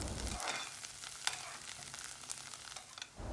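Chopped coriander with its stems sautéing in a pan, giving a continuous close sizzle with light stirring crackles and scraping throughout, no voices.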